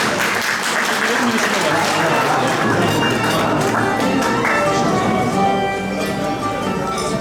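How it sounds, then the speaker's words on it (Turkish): Steady, loud applause from a ceremony audience at a celiac disease awareness event as award guests are invited up, a full wash of clapping filling the whole stretch with crowd murmur underneath. "alkışlarınızla davet ediyoruz"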